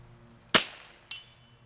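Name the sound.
22LR rifle shot at long range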